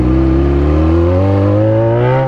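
A Yamaha XJ motorcycle engine revs up close, its pitch climbing steadily in a loud, smooth, rising drone.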